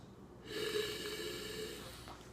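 A single close, drawn-out nasal sniff of a glass of salmon-colored sparkling rosé wine, soft and breathy, lasting about two seconds with no talking.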